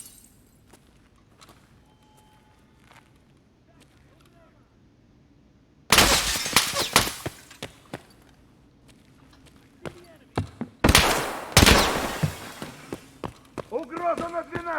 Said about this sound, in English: he's gonna start shooting.